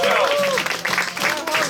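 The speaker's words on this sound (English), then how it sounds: "a round of applause to our host, Joe" Audience clapping for a host at a Porchfest variety troupe show: a short burst of applause, loud and close, with voices talking and cheering over it.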